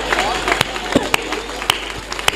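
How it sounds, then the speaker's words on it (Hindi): Audience at a Hindi poetry recital claps along in scattered sharp hand claps over steady crowd murmur, a few loud distinct claps standing out against a close babble of voices. "ताली जरा बजाओ"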